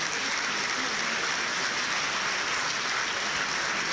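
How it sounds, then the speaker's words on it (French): Dense, steady applause from an audience at a French entrepreneurs' forum debate held at a business school, filling the whole stretch evenly with no voices on top. "Vous pouvez les applaudir parce que c'est un gros travail."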